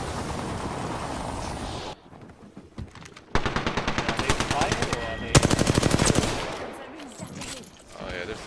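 Rapid automatic gunfire from a firefight in the battle royale game Apex Legends, loud bursts of repeated shots after a quieter stretch, with game sounds between volleys.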